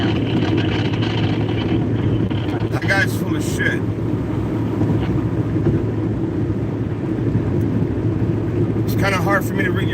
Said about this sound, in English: You guys see I'm driving right now